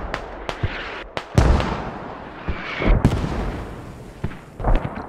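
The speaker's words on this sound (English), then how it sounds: "Artillery strike coming down" Artillery strike in the Squad video game, with repeated booming impacts and sharp cracks in an irregular sequence, some close and loud, others farther off, set against a rumbling battlefield background with no talk.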